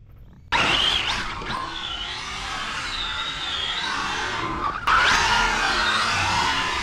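A radio-controlled rally car running on low-speed gearing, its motor whining loudly and close, with tire scrabble and skid-like bursts as it accelerates and turns, a sharp restart near the end.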